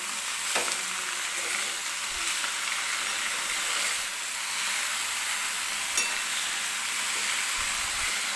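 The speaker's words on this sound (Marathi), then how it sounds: "हलवून घेते, म्हणजे खालून करपणार नाही" Tandalichi bhaji, amaranth greens, frying in a kadhai while being stirred with a spoon, a steady close hiss and sizzle with soft scraping stirs and a couple of faint clinks, alone without talk.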